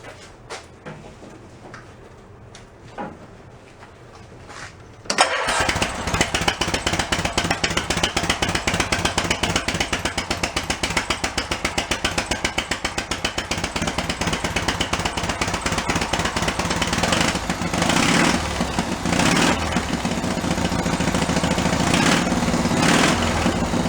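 A small engine on a Cushman meter maid utility vehicle with a custom exhaust cranks and catches, then runs loud with a rapid, throaty exhaust rumble that holds steady and revs a little.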